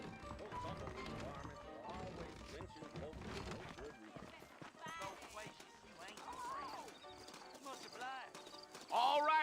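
Horse hooves clip-clop in Red Dead Redemption, heard under game dialogue and background music, with a brief whinny near the end.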